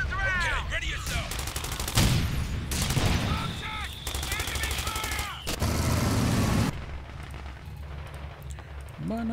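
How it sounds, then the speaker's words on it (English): Gunfire in a Company of Heroes 2 battle in the Ardennes: dense bursts and volleys of rifle and machine-gun fire, loud and continuous, with explosions and battle noise and soldiers' voices calling out over the top. "Contact. Enemy fire."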